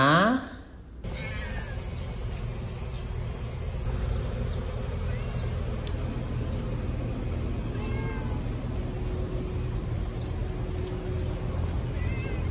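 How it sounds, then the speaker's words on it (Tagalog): A lone stray cat meows loudly and close at the start, then gives a few fainter cries later over steady outdoor background noise. "hanggang makita ko ang isang kawawang pusa"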